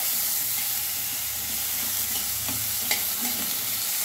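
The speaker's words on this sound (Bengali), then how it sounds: "মশলাগুলো আমি কড়াইয়ে সামান্য তেল দিয়েছি, একটু ভেজে আমি সেদ্ধ করে নিই।" Whole spices fry in a small amount of oil in a wok, sizzling loudly and continuously throughout, with faint stirring scrapes and no talk.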